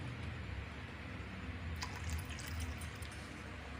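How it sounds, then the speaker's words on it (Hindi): Water poured into a pot of beef kofta gravy, a soft steady trickle and splash over a low simmering background hiss, faint and close, with a few brighter drips partway through. "शोरबा करने के लिए थोड़ा सा पानी डाल लेंगे।"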